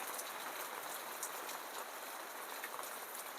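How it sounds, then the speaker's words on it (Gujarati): Gentle morning drizzle falls in an even, soft hiss of fine drops with faint scattered taps, steady throughout. "આવો ઝીણો ઝીણો તો હવારનો વરસાદ આવે"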